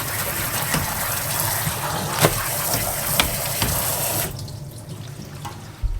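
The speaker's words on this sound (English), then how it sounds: "So one more nice rinse with really hot water." Hot water runs steadily from a faucet for about four seconds, splashing over fabric held beneath it, then cuts off, leaving faint dripping and a brief clunk.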